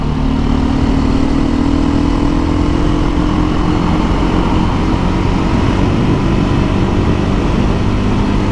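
A Beta 500 dirt bike engine drones steadily and loudly while riding, a constant close buzz with a faint rising tone and no talk.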